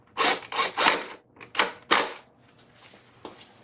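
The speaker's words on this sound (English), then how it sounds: "Put this last bolt in here." Bolt being fitted on a 1992 Acura Legend engine during crank sensor work: a few close, sharp metallic clicks and ratcheting bursts in quick succession, then fainter scattered taps.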